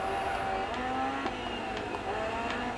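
Rally car in the racing game Dirt 4, its engine droning steadily through a turn with tire noise and a few sharp clicks, continuous and fairly loud with no talk.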